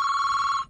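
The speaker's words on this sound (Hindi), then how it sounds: "फोन उठाइए ना" A telephone bell rings in one short, bright, trilling burst, loud and close, then cuts off abruptly. No one speaks.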